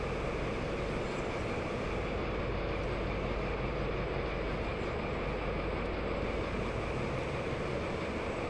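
A Baureihe 204 diesel locomotive in Train Sim World rumbles steadily as it slows to a stop at a station, a continuous loud low drone with no talking.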